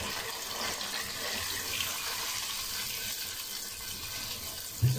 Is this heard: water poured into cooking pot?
yes